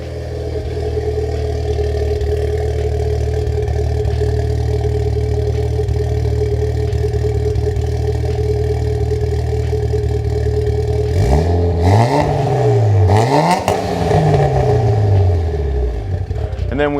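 A Mitsubishi Lancer Evolution VIII idles steadily through an aftermarket exhaust, then near the end is revved hard several times in quick succession, the note rising and falling sharply.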